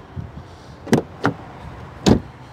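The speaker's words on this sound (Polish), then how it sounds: "dźwięk zamykanych drzwi" Several solid thuds of a 2024 Dacia Duster's door shutting, three firm closes spaced about a second apart, close and fairly loud.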